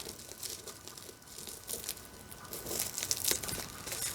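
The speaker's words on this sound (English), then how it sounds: "so let's unwrap this" A large silicone arm is unwrapped from crinkly plastic packaging, giving close, irregular crackling and rustling that grows busier and louder toward the end.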